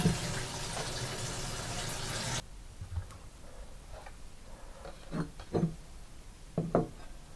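Running tap water rinses chopped, deseeded bell peppers, a steady broadband wash for the first two seconds, then stopping, followed by faint scattered knocks and clatters of handling in a quiet kitchen.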